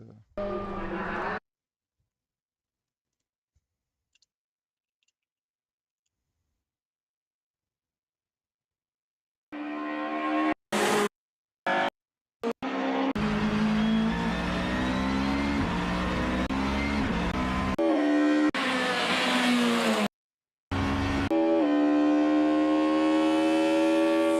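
Audi A4 B5 Super Touring race car engine in a racing video game, revving and climbing through gears loudly after a long silent stretch, with brief cuts and interruptions.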